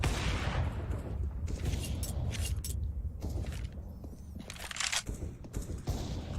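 Short bursts of rifle fire in the game CS:GO during a professional ESL Pro League match, a few taps echoing through a busy mix of steady game noise and footsteps.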